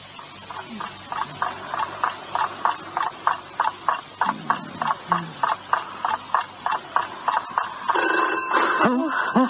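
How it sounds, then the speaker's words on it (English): A telephone rings in a steady run of repeated electric bell bursts in a radio drama, ringing at 3 o'clock in the morning, with brief voices and a rustle near the end. "It's the phone."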